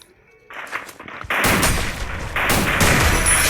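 Gunfire in a shooter video game: quieter sounds at the start give way to loud, dense blasts that continue steadily to the end.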